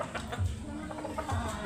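A gamefowl rooster of hatch or sweater breed, 11 months old, gives a few short low clucks at close range over steady background noise.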